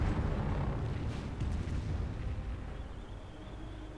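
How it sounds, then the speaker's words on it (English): A V1 rocket explodes in the Company of Heroes strategy game as a heavy, rumbling blast whose low roar fills the clip and slowly fades, with no voices over it. "V1 takes out both of the Calliopes."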